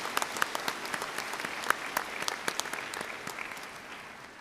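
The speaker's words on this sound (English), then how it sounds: "give the nominees and candidates for this award and our outstanding graduates a round of applause in gratitude." A 2022 commencement audience applauds graduates and award nominees. Many close, sharp hand claps form a steady, moderately loud round that thins slightly as it goes on.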